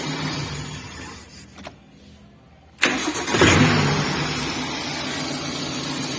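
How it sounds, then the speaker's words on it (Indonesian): A Suzuki Carry Futura's engine, fresh from a timing belt replacement, has a brief starter whir, a short quiet pause, then fires with a sharp burst and settles into a loud, steady idle close by. "kita coba tes hidupkan mesinnya"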